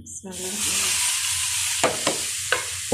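Chopped bottle gourd with green chili, turmeric, bay leaf, salt, onion and mixed spices sizzles steadily in a pan, with a few sharp scraping stirs of a spatula near the end; no talk.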